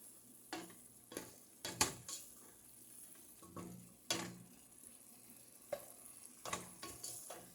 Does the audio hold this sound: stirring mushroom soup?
yes